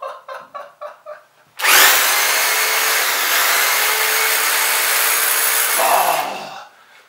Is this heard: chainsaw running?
yes